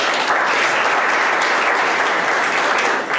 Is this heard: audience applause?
yes